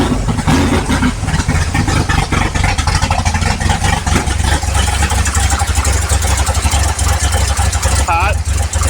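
A 55 Chevy big block engine runs loud and close with a rough, heavy rumble and rapid uneven firing pulses throughout, a sharp brief squeal near the end.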